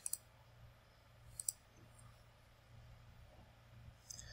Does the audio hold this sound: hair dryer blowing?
no